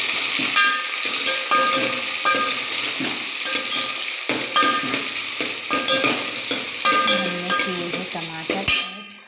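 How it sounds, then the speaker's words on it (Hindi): Tomatoes and onions fry in a pan with a constant loud sizzle, punctuated by repeated scraping strokes of a spoon stirring, ending in a clatter. "इसको भी हम थोड़ा सा हल्का सा फ्राई करेंगे, जब तक ये अच्छे से फ्राई हो रहा है"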